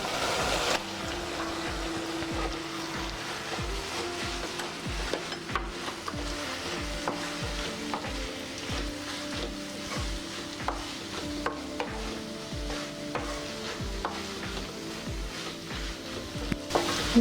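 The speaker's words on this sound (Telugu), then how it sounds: "ఇప్పుడు మనం ముందుగా తీసి పెట్టుకున్న పనసపొట్టు ఇందులో వేసుకుని ఉడకబెట్టుకుందాం." Raw jackfruit pieces cook in oil in a pan with a steady soft sizzle and a regular series of stirring scrapes, close and continuous with no talking.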